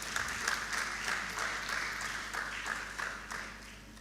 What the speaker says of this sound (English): please let's give him a round of applause as he makes it